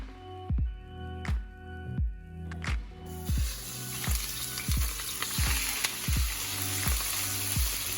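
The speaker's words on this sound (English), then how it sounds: "With your wok or whatever kind of pan you have, start off with your olive oil. Then begin gently adding in your protein." Protein cooking in olive oil in a wok, a steady sizzle with repeated soft knocks and clanks as it is stirred, fairly close, with no talking.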